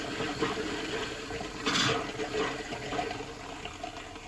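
Pink RV antifreeze gushes from an opened bathroom valve, a steady watery rush with a louder surge of flow midway, close and alone with no talking.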